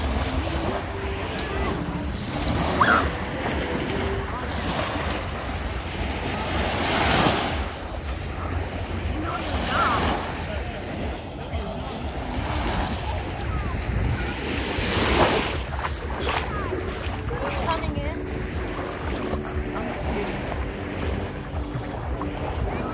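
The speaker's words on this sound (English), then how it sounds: "we are just enjoying this beautiful beach" Waves washing onto a state park beach with steady surf roar and wind buffeting the microphone, swelling now and then, while voices chatter faintly in the background.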